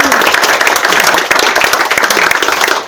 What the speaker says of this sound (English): So I think David needs a round of applause